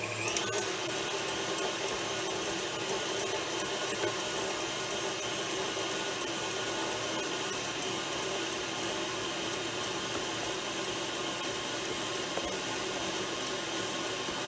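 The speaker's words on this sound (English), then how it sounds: "we're going to kick on the mixer." An electric stand mixer whips egg whites for homemade marshmallows, giving a constant even whirring hum with no break throughout, fairly faint.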